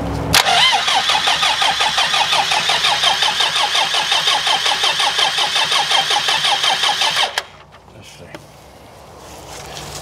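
A 40-year-old telehandler engine cranks loudly and steadily with a rhythmic churning for about seven seconds, then stops abruptly, leaving quiet mechanical noise and faint background sounds.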